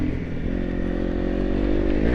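A motorcycle rides a sandy, rocky desert trail in Death Valley, its engine droning loud and steady up close with faint clatter and scrape from the rough ground.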